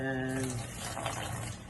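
Kitchen tap runs steadily to warm water for a challah dough, a continuous rushing stream with a voice briefly heard at the start.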